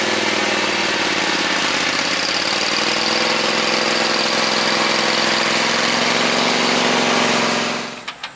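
John Deere 214 garden tractor engine, fitted with a pulley swap, labouring steadily while pulling a heavy van, a loud, continuous buzzing drone close by that cuts off abruptly near the end, with no talking.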